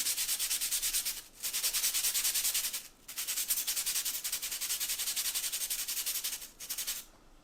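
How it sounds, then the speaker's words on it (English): An HB charcoal stick is sharpened with rapid, steady rasping strokes, close and continuous, broken by a few brief pauses. "I'm just going to give my HB charcoal a little bit more of a sharpen"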